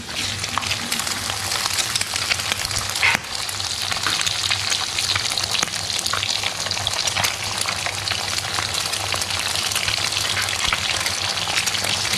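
Steady, loud sizzling and crackling of eggs frying in a hot pan with bacon pushed aside, continuous throughout with occasional scraping.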